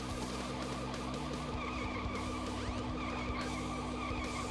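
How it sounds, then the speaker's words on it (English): Police cars in Sonic Adventure DX driving through a city, with continuous engine drone, tire squeals and skidding layered over busy game music, loud and steady throughout. "Very awkward driving by those police cars"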